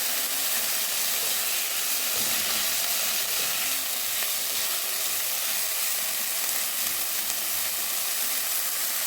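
Meat frying with onion and spinach in a pan, a dense, constant sizzle and hiss close up, with faint stirring scrapes underneath and no talking.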